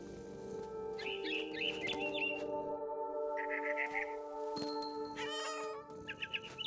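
A cat meows several times in the video game What Remains of Edith Finch, with bird chirps around it and a steady tonal game ambience beneath.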